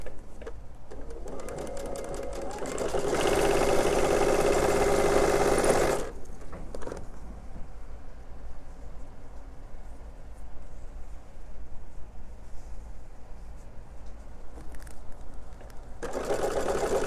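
A sewing machine joins two fabric pieces in a loud, continuous run of a few seconds, then falls to quiet handling before starting up again briefly at the end.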